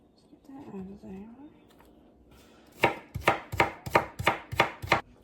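Half an onion diced with a knife on a cutting board, a quick run of about eight crisp, evenly spaced chops, close and loud, following a quiet stretch with soft voice-like murmuring.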